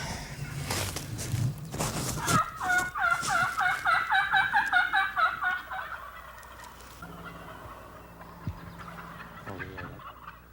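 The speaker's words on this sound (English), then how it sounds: "Okay, you can hear the gobblers." Wild turkeys gobble in a rapid rattling burst from a distance, preceded by rustling and footsteps, with quieter outdoor ambience afterward.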